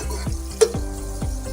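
Chicken going into a pan of golden fried onions for chicken biryani: soft, quiet sizzling with a few light stirring scrapes and one brief clink, no voices.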